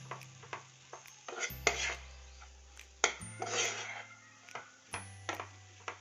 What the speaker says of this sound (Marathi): हे मिश्रण आपण 2 ते 3 मिनिट सतत हलवायचं आहे.